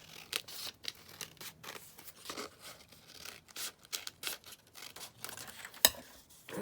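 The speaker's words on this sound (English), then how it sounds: "let's just cut this down" Scissors snip repeatedly through paper while an envelope pocket booklet is trimmed, giving a series of close, crisp cuts at an uneven pace with light rustling between them and no talking.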